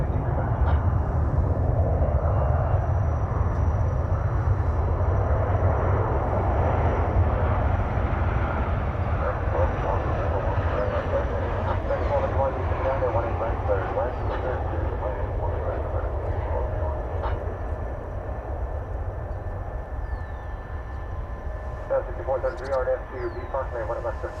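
Airbus A300 engines at DFW Airport give a loud, sustained low roar that thins slightly toward the end, while someone talks over it through much of the time.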